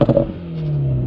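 A 2024 Acura Integra Type S engine heard from outside the car, a couple of quick revs at first settling into a steady, fairly loud idle drone with no talking.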